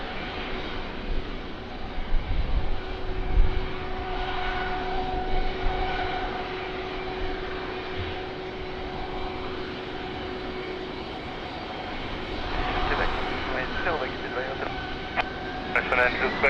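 An airplane takes off from runway 20 at Lisbon Airport, its engines a steady, moderately loud drone with a sustained tone that swells toward the end, while radio voices talk over it.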